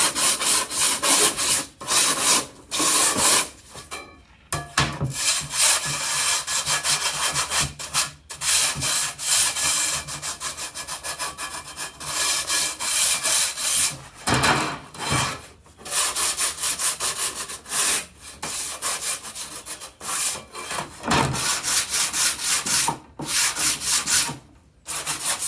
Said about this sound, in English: So I've got some 150 grit sandpaper. I'm just going to go over this and round this edge off,